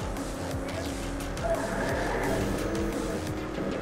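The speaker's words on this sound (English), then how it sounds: "Yeah, I'm drifting" A yellow race car drifts in Trackmania Turbo, its engine revving loudly with rising and falling pitch while the tires squeal through the slide.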